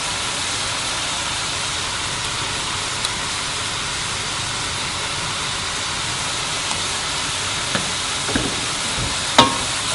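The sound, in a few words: hot chillies frying for spaghetti bolognese sauce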